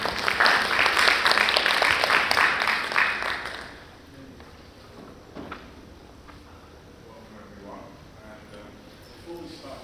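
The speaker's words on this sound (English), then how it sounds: "Round of applause for BAMBA, please." An audience at a mindfulness organisation's online talk gives a round of applause that fades out after a few seconds, leaving quiet room tone with faint stray sounds.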